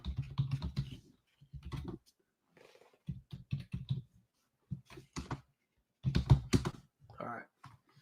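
Bursts of typing on a computer keyboard, quick clicking keystrokes in short runs separated by pauses, close and fairly quiet, with a person speaking in between.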